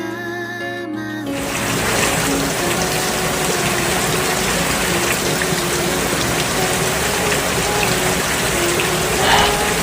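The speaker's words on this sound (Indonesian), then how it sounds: "Hujan." Rain falls in the mobile game Sakura School Simulator, starting abruptly after a short stretch of music and then holding as a loud, dense, unbroken wash of downpour.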